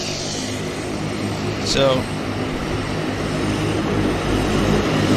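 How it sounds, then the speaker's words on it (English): A Boeing 757 cargo jet at Vancouver airport gives a steady, distant engine roar and broadband rumble that swells slightly, while someone talks over it. "Cargo jet 757."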